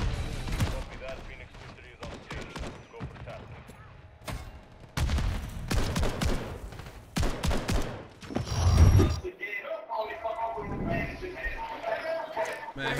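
Repeated shotgun blasts in Call of Duty: Modern Warfare 3 gameplay, loud bursts clustered across the clip amid other gunfire and game noise, with someone talking over much of it.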